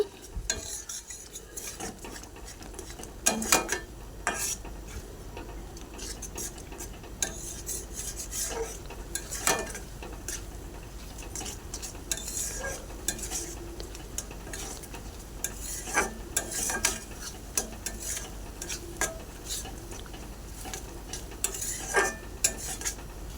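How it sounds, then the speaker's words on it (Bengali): Spices sizzle softly in a pan while a spatula scrapes and stirs in irregular strokes, with occasional clinks of metal. "কাশ্মীরি লঙ্কা দিয়ে ভালো করে মশলাটাকে ভেজে নেব"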